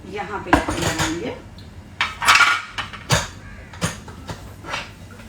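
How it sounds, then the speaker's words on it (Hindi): Clattering of metal pots and utensils as a pressure cooker of rajma is set on a home kitchen stove, several sharp clanks and scrapes at close range with brief pauses. "तो अब ये कुकर चढ़ गया है"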